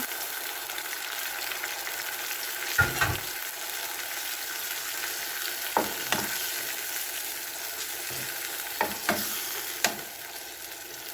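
Pork liver stirred in a frying pan over a constant, close sizzle, punctuated every few seconds by soft scrapes and knocks of the spatula against the pan.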